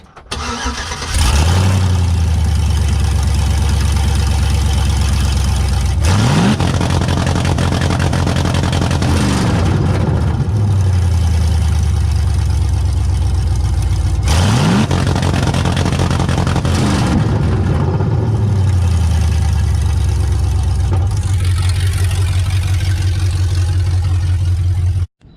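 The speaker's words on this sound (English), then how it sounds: "And it'll rev to the moon." A mud truck engine fitted with a two-step rev limiter and a Lingenfelder box revs hard and loud, climbing to a held roar, dropping back and surging again in repeated bursts close by.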